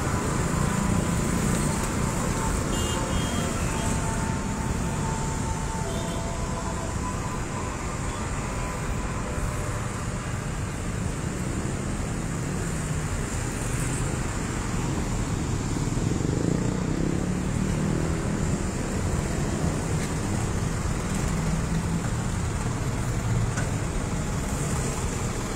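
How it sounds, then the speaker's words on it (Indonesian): A queue of trucks and buses waits at a fuel station in Tamalanrea during a fuel shortage, giving a steady, broad rumble of engines and road noise that holds evenly throughout without talk. "Bisa dilihat antriannya saat ini sejumlah truk dan bus antri BBM."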